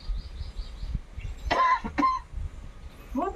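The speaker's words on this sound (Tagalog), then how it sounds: "inom mo ng sabaw para mawala yung ubo" A person coughs a couple of times in harsh bursts, with faint bird chirps and quiet background noise around it.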